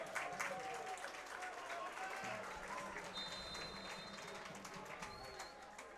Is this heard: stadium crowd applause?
yes